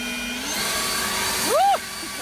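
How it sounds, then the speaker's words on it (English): A cordless 56 volt battery leaf blower hums steadily and close, rising briefly in pitch and loudness near the end, while a person speaks over it. "Here we've got a blower."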